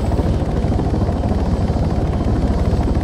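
Helicopter in the video game ArmA 3, a loud, close, steady rotor thump with a rapid rhythmic chop over dense low engine roar, continuous throughout.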